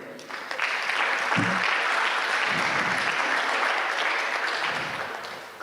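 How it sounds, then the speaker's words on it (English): Audience applause at an international healthcare conference for a team from Poland: a dense, steady wash of clapping that swells quickly, holds for several seconds and tapers slightly at the end, with faint voices mixed in. "We want to give the team from Poland, represented by Dr. Lukas, a round of applause"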